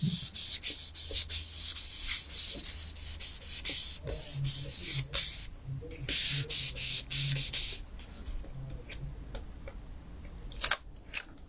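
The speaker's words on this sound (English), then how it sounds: "And then just give it a good rub." A hand rubs tissue firmly over a crafted autumn-themed card in quick, scratchy back-and-forth strokes that are loud and close, then stop, leaving a few light taps.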